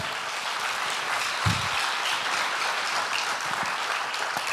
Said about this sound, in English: round of applause for CEO and founder